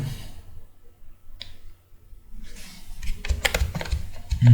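Keystrokes on a computer keyboard entering an amount in Tally ERP 9: near-silence at first, then a quick, close cluster of taps and a final key press.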